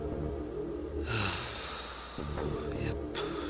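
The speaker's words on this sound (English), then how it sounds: "Then began to hear his own breathing." Breathing effect from the game 9 Hours 9 Persons 9 Doors: a soft muffled inhale swells and fades over a low droning backdrop, followed by a quieter breath and a faint gasp near the end.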